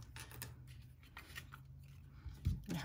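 Scissors snipping through paper to separate small apple-stem pieces for a stamp-club card craft, a few crisp close cuts with light rustling, no voices.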